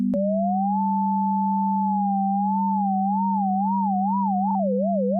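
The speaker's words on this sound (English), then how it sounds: "if I went to the MIDISketch default synth, this is just a normal sine wave" A steady, pure sine-wave tone from MIDISketch's default synth held low in octave 2, joined by a higher gliding tone that develops a widening vibrato toward the end, alone and clean.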